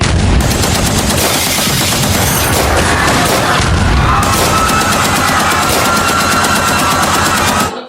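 Loud, continuous machine-gun fire played as a sound effect in a live comedy show: rapid bursts of shots pound on for nearly eight seconds with booming undertones, and no talking.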